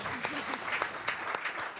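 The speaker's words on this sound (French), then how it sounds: "Vous applaudissez s'il vous plaît l'entreprise Jog et Jérôme Hureau" A crowd applauds at the Trophées Septuors du Gers awards ceremony in 2020, a brief stretch of dense clapping while a voice speaks over it.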